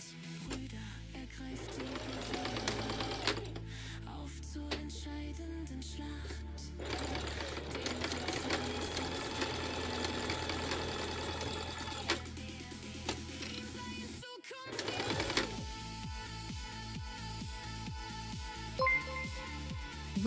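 A sewing machine runs in bursts of rapid mechanical stitching, loud and close, with changing motor hum and brief pauses between runs while a yarn bowl is made.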